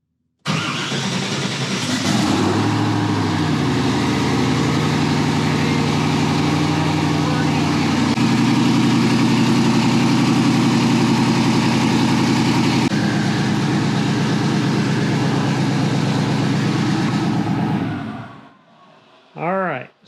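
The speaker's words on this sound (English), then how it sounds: "So we'll start the engine and we'll compare." A car engine cranks and catches, then idles steadily and loudly for about fifteen seconds with a slight shift in pitch partway through before shutting off, followed by a brief squeak.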